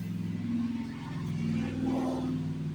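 Electric fan running in a workshop during mower fuel line repair, a steady low hum and whir holding at even level, fairly quiet and constant with no talking.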